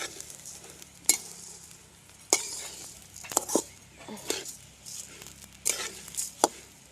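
Chili peppers roast in a pan with a low sizzle, broken by sharp clinks and scrapes of a utensil stirring against the metal at irregular intervals.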